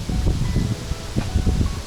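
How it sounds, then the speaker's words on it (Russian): Strong wind blows through a forest on a river island during a fishing trip near the Volga, a continuous rough rush with gusty buffeting close to the microphone. "Ну, ветрище, конечно,"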